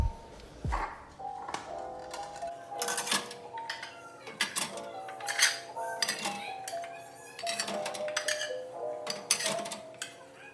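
Plates, bowls and cutlery clink and clatter as they are stacked into an empty dish rack in a home kitchen, a busy run of close metallic and ceramic knocks with no talk.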